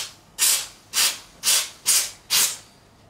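Can of compressed air blowing dust off a Fender Vintage Hot Rod 60s Stratocaster, five short sharp hissing sprays in an even rhythm, close and loud.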